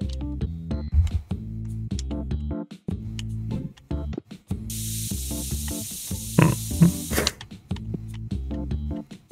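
A spray can hisses in the video game TCG Card Shop Simulator, a sustained bright hiss of a few seconds partway through, laid over looping game music with rhythmic beats.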